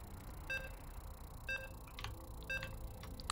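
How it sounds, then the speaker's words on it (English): Short electronic beeps sound as StarCraft loads into a tournament match: three evenly spaced tones about a second apart, faint over a low background hum, with a few clicks after them. "You can hear the beeps."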